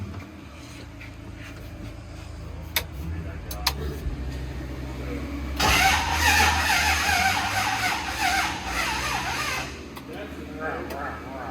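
A Chevrolet Nova with twin turbos cranks on a weak battery that has dropped to about 8 volts and fails to start: a sustained, strained grinding-whir lasting several seconds, close by, following brief talk.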